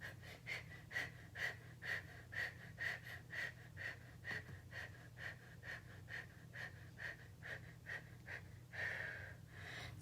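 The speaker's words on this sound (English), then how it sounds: "five more breaths" Rhythmic breathing during a breathing exercise, heard close and fairly quiet as a long series of even, quick in-and-out breaths with an airy rasp.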